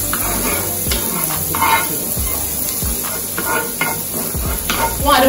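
Vegetables including garlic, onion and sweet peppers sizzle and fry in a pan for oxtail pasta, loud and close, with repeated scraping stirs and utensil knocks over a constant hiss.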